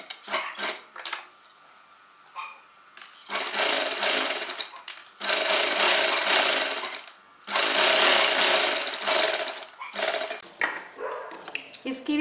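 Armhole seams on a short jacket are stitched on a sewing machine in three sustained whirring runs, with clicks and fabric handling between them.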